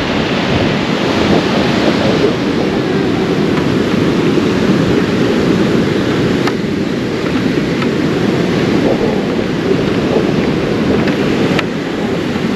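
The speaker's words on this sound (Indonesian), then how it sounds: "kondisi ombak di Pantai Selatan." Heavy surf roars continuously with waves crashing close by at Cemara Beach, Cidaun, on the south coast of West Java, wind buffeting the microphone underneath.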